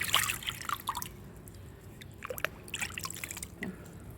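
Water splashing and dripping as mushrooms are dipped and rinsed by hand, with intermittent trickles and drips close by, louder at the start and then sporadic.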